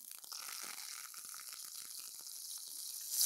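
Crushed garlic dropped into hot groundnut oil, giving a bright, steady sizzle and crackle that holds evenly and swells slightly at the end, close and unaccompanied by voices.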